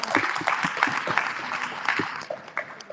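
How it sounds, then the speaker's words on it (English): Audience at a political convention in Washington DC applauds a president's speech, with dense clapping from a crowd at fairly close range and a few sharper individual claps poking out, steady throughout. "while you clap your hands"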